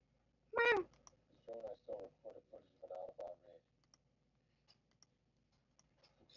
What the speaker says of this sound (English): Sound the cat meowing.